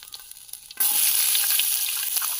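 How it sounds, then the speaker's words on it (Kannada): Chopped ginger and garlic hit hot oil in a pan with a sudden loud sizzle that keeps crackling steadily, after a brief quiet moment. "ಎಣ್ಣೆ ಕಾದಿದೆ, ಇವಾಗ ಶುಂಠಿ ಬೆಳ್ಳುಳ್ಳಿ ಹಾಕ್ತಾ ಇದ್ದೀನಿ."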